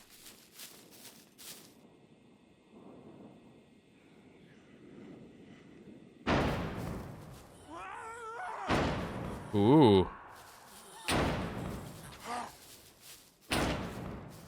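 Base defense turrets in the game SCUM fire loud, heavy bursts that slam and thud, with mechanical whirring and warbling tones between the shots and a short spoken exclamation.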